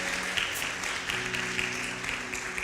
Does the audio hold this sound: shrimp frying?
no